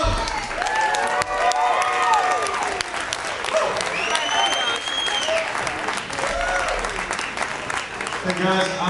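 Crowd applauding and cheering after a School of Rock student band's performance: loud, sustained clapping with whoops and shouts, plus voices talking through the noise, for close to nine seconds.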